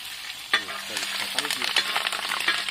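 Green chillies frying in a hot pan with ginger, a steady sizzle with crackles and scraping stirs, no voices, close and fairly loud throughout.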